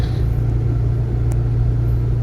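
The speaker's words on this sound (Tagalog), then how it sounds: "Laging traffic dito." Road traffic beside a plant garden in Tartaria keeps up a steady, loud low rumble of passing cars and engines throughout, with no talking.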